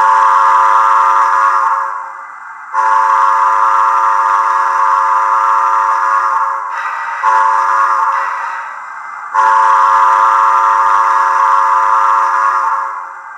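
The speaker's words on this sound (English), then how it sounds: "long whistle." A Bachmann 4-6-0 model steam locomotive's sound decoder plays a long whistle, three sustained loud blasts with short gaps, close and alone with no speech.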